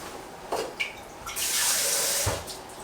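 Brief splash of water poured into spicy Italian sausage meat for about a second, close, amid small handling knocks and a quiet background.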